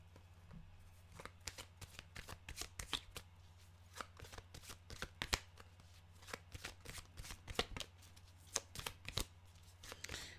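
A deck of oracle cards is shuffled close up, a quiet, rapid run of riffling flicks and soft slaps repeating steadily with no talk.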